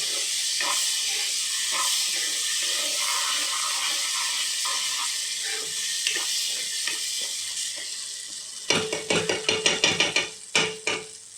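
Eggplant curry masala simmers in oil with a steady, bright sizzle and hiss. Near the end a spoon stirs through it, adding a quick series of louder scraping knocks over the frying; no voices.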